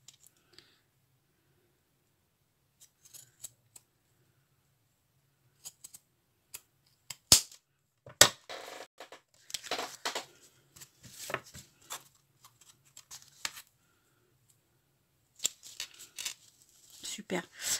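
Scissors cutting through card in short, close snips and crisp clicks, scattered irregularly between quiet pauses, with someone speaking softly in between.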